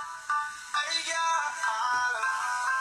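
A mobile phone ringtone plays a bright repeating electronic melody of short tonal phrases, fairly clear and with no talking over it.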